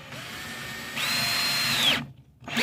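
A power drill drives a thick lag bolt into wood without a pilot hole. The motor whines steadily, then strains louder as the bolt bites, stops briefly, and starts up again, all close and with no talk.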